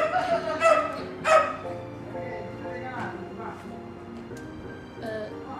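A dog in the background of a home setting gives a few sharp barks and yips early on, then fades under a steady murmur of talk and background sound.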